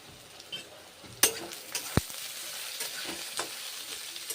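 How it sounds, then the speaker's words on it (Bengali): Eggplant stir-fried in a pan with roasted ground coriander and cumin, a soft continuous sizzle broken by a few sharp utensil scrapes and knocks, close by and quiet. "মশলা দিয়ে বেগুনগুলো কষে নিচ্ছি।"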